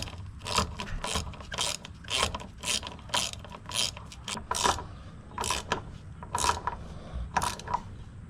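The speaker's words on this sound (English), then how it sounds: "then you just got to tighten her down" A ratchet wrench tightens a bolt at a Fox Body lift point with repeated quick clicking strokes in short bursts, close and fairly loud, with no talking.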